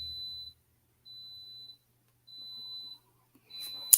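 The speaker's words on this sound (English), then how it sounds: "that's my Instapot, y'all. That's not my smoke detector or whatever." An Instant Pot pressure cooker beeps in three steady high-pitched tones, each about half a second to a second long with gaps between, followed by a brief rustle at the end; no one speaks.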